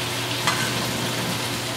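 Plant-based sausages fry in a pan with a constant close sizzle, a single faint scrape of stirring partway through, and no voices.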